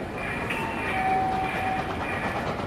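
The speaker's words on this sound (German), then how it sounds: "Bitte Vorsicht, ein Zug fährt durch." An N-scale 1:160 model railway train rolls through a station as a sound effect, a steady close rumble with a faint whistle-like tone partway through and no voices.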